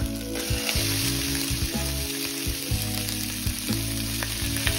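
Sausage and pork frying in cooking oil for jambalaya, a loud, close, continuous sizzle with occasional stirring scrapes and no voices.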